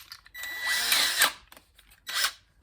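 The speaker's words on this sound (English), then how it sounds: "so I could put it in the drill" A power drill spins a homemade string winder made from all-thread, whirring in a sustained high burst followed by a shorter second burst, close by with no speech.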